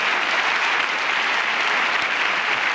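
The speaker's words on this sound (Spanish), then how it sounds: "Un aplauso para el doctor." Studio audience applause on a comedy talk show, steady and dense for the whole stretch, loud and close with no voices over it.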